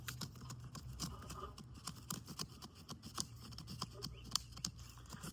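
A saw on the back of a TOPS Hawkes Hellion Survivor knife rasps in quick, repeated strokes against a tree branch, close and fairly quiet, with irregular scraping rhythm.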